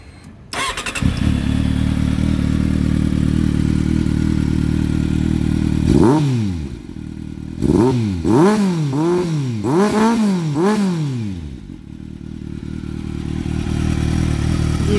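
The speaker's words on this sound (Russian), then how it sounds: "Движок работает чисто, без посторонних звуков." A 2006 Kawasaki Z750S motorcycle with an American exhaust idles steadily, then revs several times in quick bursts before settling back to a steady idle, close and loud.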